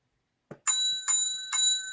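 A small bell, a toy or bicycle-style bell, rung three times in quick succession, each bright metallic ding ringing on with sustained tones, close and clear with no talking.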